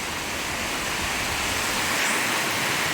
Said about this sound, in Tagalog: Ulan at hangin.